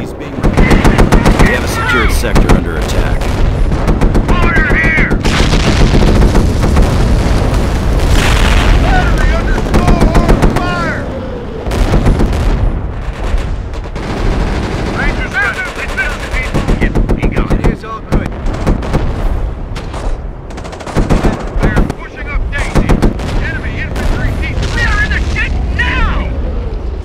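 Machine-gun bursts and booming artillery fire in a Company of Heroes battle for Hill 331 (Blitzkrieg mod), loud and almost continuous for the whole stretch, with shouted soldier voice lines over the gunfire.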